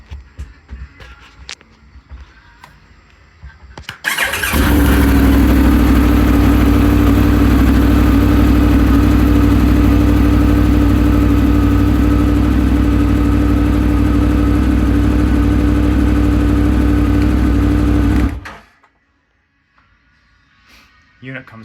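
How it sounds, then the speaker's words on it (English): A Triumph Tiger 1200 motorcycle engine is started and left idling, a sudden loud steady rumble close by that runs for about fourteen seconds before cutting off, with quieter sounds before and after. "I'll fire it up so you can see that, yes, there's still some vibration."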